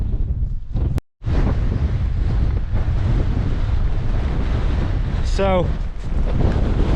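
Strong gale-force wind buffets the microphone on an exposed clifftop in heavy rain, a loud, constant roar with one brief dropout, while someone briefly speaks.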